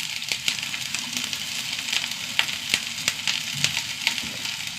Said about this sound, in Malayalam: ഉള്ളി നന്നായി മൂത്ത് വരട്ടെ